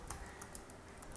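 Quiet, rapid clicking of keys being typed on a computer keyboard, a brief patter of taps close up.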